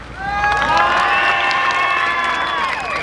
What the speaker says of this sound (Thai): กองเชียร์เสียงกันล้นหลามนะคะ